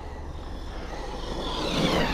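Redcat Racing Valkyrie, a low-cost RC truggy, driving with a steady broadband motor and tire whir that builds gradually louder toward the end, with no talk over it.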